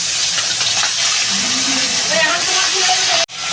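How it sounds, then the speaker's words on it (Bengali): A hilsa fish head fries in hot oil in a kadai, giving a loud, close, steady sizzle and hiss that cuts off abruptly near the end. "ইলিশ মাছের মাথাটা ভেজে নেবো"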